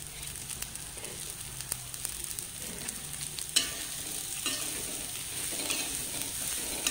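Amaranth spinach stalks stir-frying in a pan for a Kerala cheera mezhukkupuratti, giving a steady close sizzle and crackle with occasional spoon scrapes and stirring clatters throughout.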